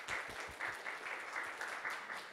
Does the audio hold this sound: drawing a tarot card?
no